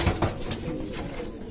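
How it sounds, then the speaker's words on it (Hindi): A captured pigeon flaps its wings in several quick, close, broadband bursts, with soft cooing mixed in. "देखो गाइस हमने एक ये कबूतर पकड़ा हुआ है"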